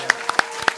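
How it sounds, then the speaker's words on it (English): A few distinct, sharp claps ring out close by, sparse and uneven, welcoming a guest on a podcast set. "Can we get a round of applause?"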